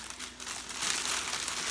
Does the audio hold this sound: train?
no